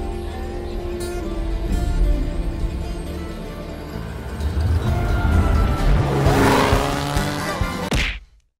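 Hudson Hornet car in the BeamNG driving game, engine droning steadily, then swelling with a whooshing, rising roar near the end before cutting off abruptly.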